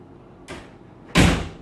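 A hotel room door swings shut with a soft thud, followed a moment later by a louder, sharp latching clunk as it closes and locks, close by with no talking.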